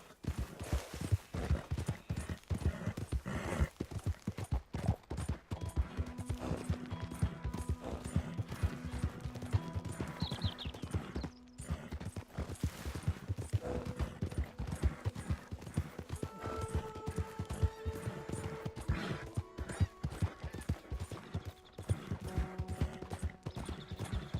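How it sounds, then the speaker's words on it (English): Horse hooves clip-clop steadily in a Red Dead Redemption II open-world scene, a brisk continuous rhythm of close hoofbeats with faint ambient game sounds and an occasional whinny. "Hey, that's a nice-looking horse you have there."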